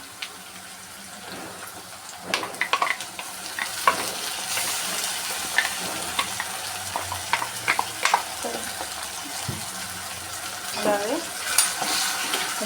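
Ground paste going into a frying pan for a prawn, drumstick and egg curry, giving a soft steady sizzle with scattered spoon scrapes and clinks, and a little water noise, close up.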